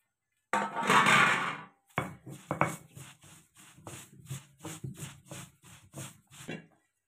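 Dried coconut, sesame and raw masala are ground together with a burst of coarse scraping, then a steady series of rhythmic rubbing strokes, close and fairly quiet, with no talk.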